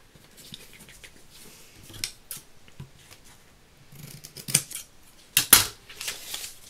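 Scissors cut through a strip of gummed kraft paper, a run of crisp, close snips and crinkles that come in irregular bursts, growing louder toward the end.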